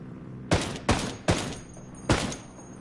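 Four sharp gunshots ring out in the video game Ghost Recon Wildlands, loud and spaced unevenly across a few seconds, each followed by a brief echoing tail.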